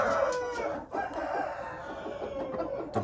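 A rooster crows loudly and close by in one long, drawn-out call that holds steady for several seconds, with no voices.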